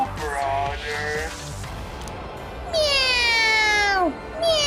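A voice imitates a cat meowing in a pastel yellow dollhouse baby-room scene, two drawn-out rising-then-falling meows, the second louder and longer, with brief talk-like sounds before.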